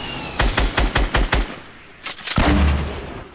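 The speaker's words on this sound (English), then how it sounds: "how the fuck is he shooting at me?" Gunfire in the video game Fortnite: a rapid run of about eight sharp shots near the start, a pause, then a couple of louder heavy blasts with a rumbling tail, no talking over them.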